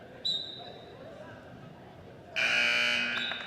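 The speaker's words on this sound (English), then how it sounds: "As the buzzer will end the second period." A loud, harsh electronic buzzer ends a high school wrestling period, blaring for about a second over background crowd noise in an arena, following a brief softer tone earlier.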